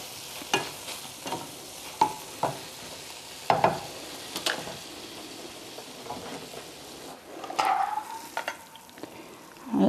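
Tofu scramble sizzles softly in a frying pan as water bubbles at the bottom, with intermittent scraping stirs and light utensil taps spread across the stretch, no voices.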